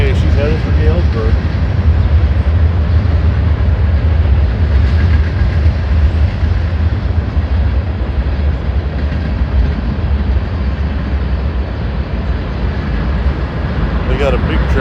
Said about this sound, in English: there goes the Burlington Northern Santa Fe. She's headed for Galesburg.